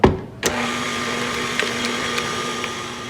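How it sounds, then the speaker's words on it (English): An electric mixer whirs through cookie batter with eggs and vanilla, a steady motor hum that starts with a sharp click and runs evenly with faint rattles, close and alone. "time to shut off our mixer"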